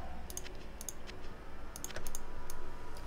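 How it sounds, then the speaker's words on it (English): Rapid mouse clicks while playing Diablo II, sharp bursts of clicks in quick clusters, some doubled, over a quiet background with no talking. "You probably hear so much clicking in this."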